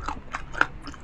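Crispy pork binagoongan is bitten and chewed up close, a few short, sharp crunches spaced through a brief moment of eating, with no talking.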